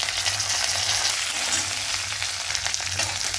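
Mustard seeds and spices temper in hot oil for a raw jackfruit poriyal, giving a steady, close crackling sizzle with light stirring throughout.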